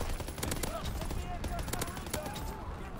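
Rapid bursts of gunfire from an aircraft gunner in the Call of Duty WWII video game, dense and continuous across the whole moment, with other game sounds mixed in.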